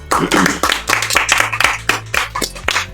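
Hands clapping during a French podcast recording, a series of sharp, close claps in irregular bursts over a low steady hum.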